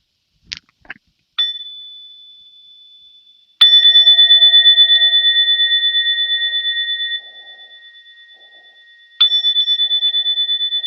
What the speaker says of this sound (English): Gently finding your breath again as I invite the bell.